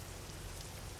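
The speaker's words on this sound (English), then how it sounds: "It's like raining on the porch here, dude." Rain falls steadily on a porch, a dense, even patter with low rumble underneath, constant and fairly close for the whole short stretch with no voices.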